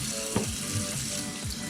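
Eggs rinsed under running tap water in a kitchen sink, a steady close hiss of flowing water with light knocks as they are handled.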